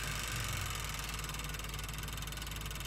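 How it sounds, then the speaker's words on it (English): A fuel pump runs on a 4KW Onan generator, giving a steady mechanical hum and whir that holds evenly and close throughout, with no talking. "I'm gonna turn the switch on and see if the tone of that pump changes and that'll let us know if it's pumping or not"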